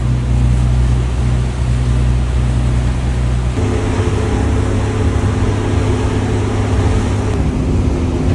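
A boat carries passengers along a river into Rotterdam on choppy water, its steady engine drone and wash of waves continuous and fairly loud throughout, with a shift in tone partway through.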